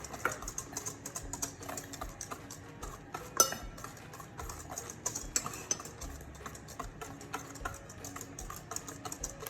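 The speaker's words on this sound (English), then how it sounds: "we're going to add the dry ingredients into the wet ingredients. So I'm just going to give it a really good mix." Cookie dough being stirred by hand as dry ingredients are folded into wet for chocolate chip cookies, faint clinking and scraping of a utensil against a bowl in a quiet, irregular rhythm, close by, with no talk.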